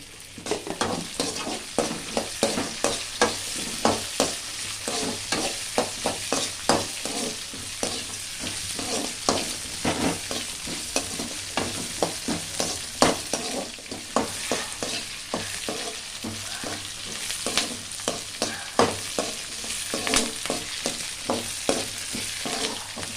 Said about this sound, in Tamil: பூண்டு இஞ்சி பச்சை மிளகா மூணுத்தையும் வதக்கி எடுத்துடலாம்